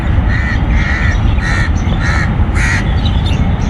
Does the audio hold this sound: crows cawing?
yes